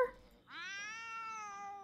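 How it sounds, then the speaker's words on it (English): A cat in The Sims 2 lets out one long, drawn-out yowl that rises and then holds steady for more than a second, close and fairly loud, after a brief faint sound at the start. "Oh, Clark, you're yowling."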